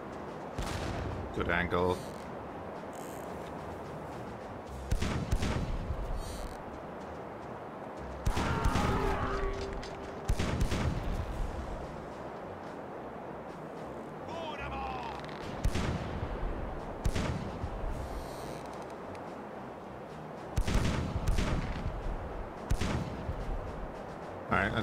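Ship cannons fire broadsides in Caribbean Legend, a naval game, as a series of heavy booming blasts spaced several seconds apart over a low sea-and-wind bed, with someone speaking briefly between shots.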